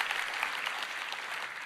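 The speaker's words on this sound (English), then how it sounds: "I would like to give them a round of applause for keeping the internet safe." An indoor audience at a developer conference keynote claps steadily, a dense and even burst of applause with no speech over it.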